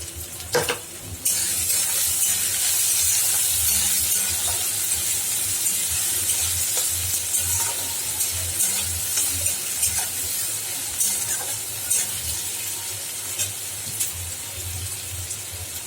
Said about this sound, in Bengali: পেঁয়াজটা ভাজা ভাজা হয়ে গেছে